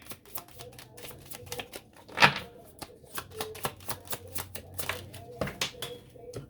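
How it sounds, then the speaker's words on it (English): Tarot cards being shuffled by hand, a rapid run of crisp clicking flutters and taps close by, with a brief louder riffle and soft speech underneath. "And then when I shuffled your cards"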